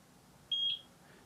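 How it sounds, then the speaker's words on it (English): Reset beep from a Eufy Solocam S340 security camera: one clean, steady high-pitched electronic tone lasting about a quarter second, close and clear over a quiet room. "So I hear a beep."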